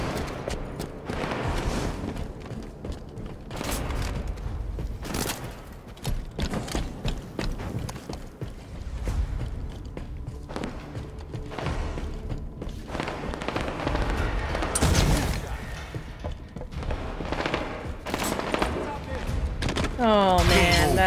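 Video game gunfire in a SWAT tactical shooter crackles in repeated bursts and single sharp shots, loud and near, scattered through a noisy firefight, with a player's voice talking over parts of it.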